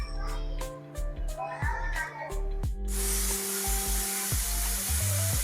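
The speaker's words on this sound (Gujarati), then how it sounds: "કુકરને સીટી લાગી ગઈ છે" A pressure cooker whistles loudly in a home kitchen, a bright steady hiss of escaping steam bursting in midway and continuing to the end, over earlier clattering and household sounds.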